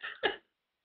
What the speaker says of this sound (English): I apologize now for the intermittent coughing.